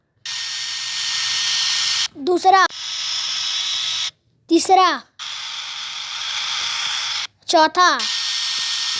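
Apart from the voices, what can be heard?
hair dryer sound effect in a prank sound video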